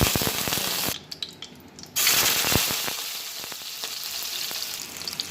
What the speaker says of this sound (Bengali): পেঁয়াজ ভাজা হয়েছে